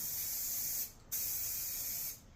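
Black paint sprays onto an aluminum radiator in two steady, hissing bursts with a short pause between them, close and without talk.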